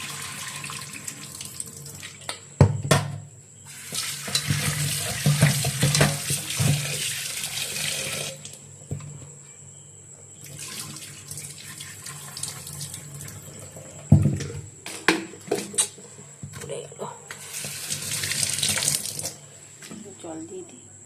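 Tap water runs over cut potatoes being washed in a kitchen sink, in several loud splashing bursts with quieter gaps between them, while someone talks intermittently.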